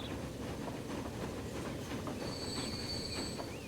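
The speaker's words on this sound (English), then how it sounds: "And right there's that train." A train runs on rails in the video game Transport Fever 2, a steady rumbling roll with high wheel squeals toward the end, continuous and without talking.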